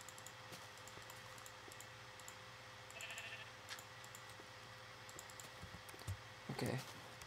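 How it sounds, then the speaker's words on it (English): Sheep in the Minecraft video game bleat in short, faint calls over a quiet background scattered with soft keyboard clicks and typing, with a louder bleat near the end. "Watch out, sheep."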